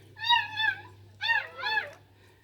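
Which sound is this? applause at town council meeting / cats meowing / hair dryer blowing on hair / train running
cats meowing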